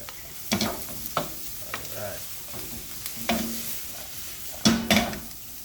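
Intermittent sizzling and stirring in a pan, with sharp bursts of frying noise and utensil scrapes at irregular intervals between quieter stretches, for Jamaican oxtail preparation.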